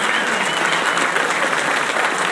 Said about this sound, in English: Let's give a round of applause to all these cities